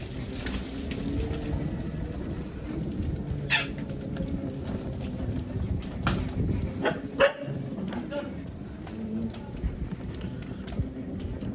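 Dogs barking in the open on the way to a beach, scattered sharp barks at a middling distance mixed with footsteps and people talking throughout.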